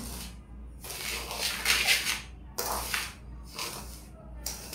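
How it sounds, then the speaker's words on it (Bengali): Homemade detergent powder with soda ash being stirred and mixed by hand, a run of gritty, rustling scrapes coming in uneven bursts at close range. "প্রপার মিক্সিং এর জন্য আরেকটু নেড়ে নেবো ভালোভাবে।"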